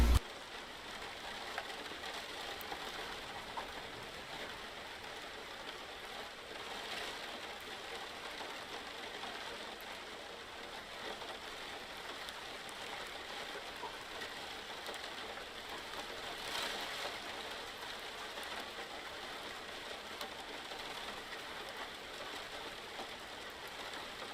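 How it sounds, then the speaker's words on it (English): Rain patters steadily in the background for the whole stretch, a faint, even hiss with no speech. "It sounds very good, the sound of the rain."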